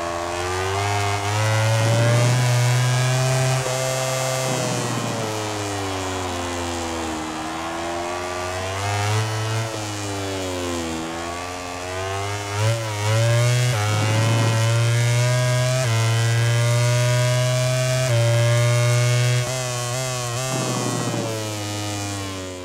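Racing motorcycle engine in MotoGP 18 at Brno, loud and continuous, revving hard with rising and falling pitch sweeps as it accelerates out of corners and shifts through gears, alone without talk.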